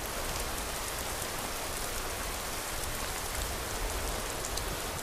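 Steady rain in the Skyrim video game world, a dense, even hiss of falling drops that stays constant with no voices.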